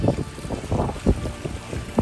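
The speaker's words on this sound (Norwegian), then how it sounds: "Vinden står rett på." Strong wind, about ten metres per second, buffeting a boat at sea in winter, a rough gusty roar battering the microphone in short surges.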